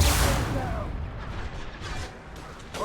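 Gunfire in Mass Effect 2, in the quarantine zone: a loud, close burst of shots at the start fades into a rumbling decay, with a sharper crack returning near the end.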